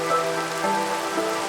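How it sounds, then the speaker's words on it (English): Rain falls in a Minecraft modpack game world, a steady, soft, even hiss of rain on surfaces with faint tonal game sounds underneath and no talk. "It's raining already."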